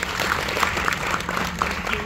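Brief scattered clapping from college students at an engineering college induction session, light and uneven, with faint murmur underneath.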